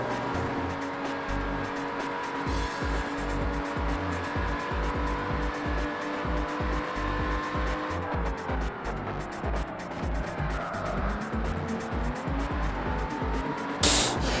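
A Lamborghini in a racing video game holds a steady, loud engine drone throughout, with tyre squeal and a brief skid near the end and no talking over it.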